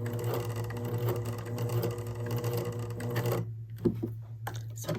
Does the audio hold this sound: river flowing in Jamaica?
no